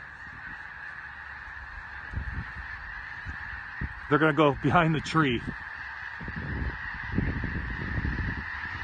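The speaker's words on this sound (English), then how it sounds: "A lot of geese taking off in the distance." Snow geese honking in flight through fog, a burst of overlapping calls rising near the middle, with fainter distant honks before and after and a steady background hum; a person speaks briefly.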